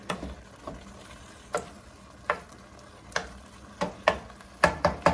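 Pigeon peas mixed into eggplant gravy in a pan, with a series of distinct spoon knocks and scrapes at irregular intervals over a soft sizzle, close and clear.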